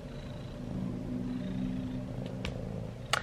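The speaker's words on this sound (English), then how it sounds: "can you hear my cat meowing? Like, I mean, purring." A soft, steady low purr rumbles close by for a few seconds, with a couple of faint clicks near the end.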